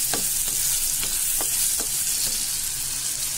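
Onions and chillies fry in hot oil in a pan, a loud continuous sizzle with a spatula scraping at a regular rhythm, about every half second.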